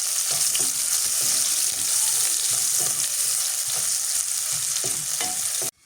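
Chopped onions with bay leaves fry in hot oil in a pan as they are stirred, a steady close sizzle broken by repeated spatula scrapes and clicks, ending suddenly, with no voices.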